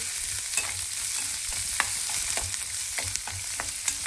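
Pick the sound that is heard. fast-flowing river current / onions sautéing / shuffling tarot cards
onions sautéing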